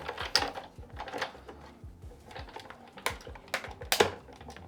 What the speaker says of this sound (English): I could hear that crack and cut through that time